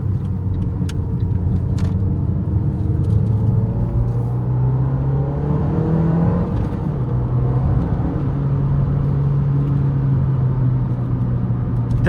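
Abarth 500 1.4 T-Jet with an ECU tune accelerating on the road, its engine note rising steadily through the gears as a loud, continuous interior drone with rumbling low end.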